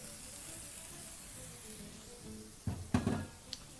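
Canned baked beans land in a warm pan over low heat, giving a couple of short wet plops and scraping clatters near the end, after a quiet, faint sizzle.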